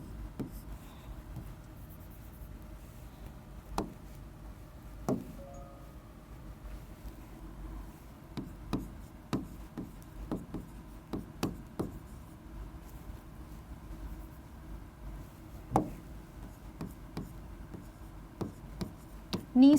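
Notes being written by hand during an ethics lesson, faint scratchy pen strokes and sharp taps scattered over a quiet room, alone without talk.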